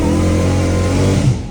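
A straight-piped Dodge Hellcat Redeye with no exhaust muffling gives a short, loud, raspy engine burst, close and alone, ending as the revs drop.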